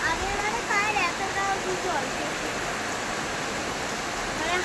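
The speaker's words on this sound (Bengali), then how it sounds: "সেরকম বৃষ্টি শুরু হয়ে গেছে অবশেষে বৃষ্টিটা এলো" Steady rain pours down in a dense, hissing wash, with faint voices and distant traffic under it.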